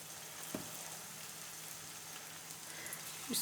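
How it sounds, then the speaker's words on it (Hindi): Onion pakoras are dropped by hand into well-heated oil and fry with a faint, steady sizzle, with soft splashes near the start and again near the end. "ऑयल हो चुका है अच्छे तरीके से गर्म। अभी हम पकोड़े डालेंगे इसके अंदर।"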